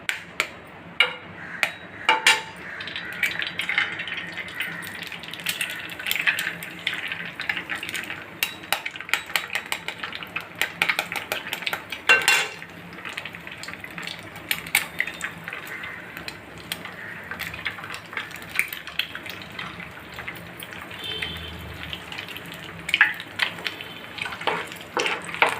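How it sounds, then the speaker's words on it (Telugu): Two eggs cracked into hot oil previously used for frying chicken, sizzling in a pan with clinks and scrapes of utensils against cookware, a steady crackle under intermittent clattering at close range. "ఈ ఆయిల్ ఇప్పుడు 2 ఎగ్గలు కొట్టి వేస్తున్నానండి నేను."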